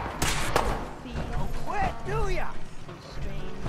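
A door mechanism in Fallout 4 grinds and clanks open with creaking, ratcheting metallic thumps spread over a few seconds, while a voice speaks over part of it.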